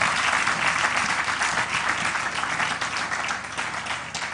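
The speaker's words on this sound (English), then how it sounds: "Please help me clap for them." Sustained audience applause at a church leadership and entrepreneurship gathering in Jos, a dense steady clapping from a large crowd that holds at a loud, even level throughout with no voices on top.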